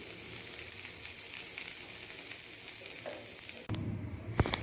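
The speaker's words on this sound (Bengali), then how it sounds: "এই সাইডটাও ঢাকনা দিয়ে আরও তিন থেকে চার মিনিট ভেজে নেবো লো ফ্লেমে" Steady sizzling of eggplant slices frying in oil over a low flame, a broad hiss throughout, cut off near the end by a few clatters.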